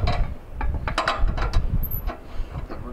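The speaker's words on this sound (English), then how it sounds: "All I have to do is get the ratchet out of the garage" A hand ratchet clicks rapidly while installing an AEV fuel caddy, a close, steady run of metallic pawl ticks against a low background hum.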